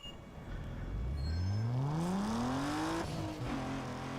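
Race cars in Need for Speed: Underground 2 on PS2 accelerate, with one engine revving upward in a rising whine that fades into a steady roar alongside other cars.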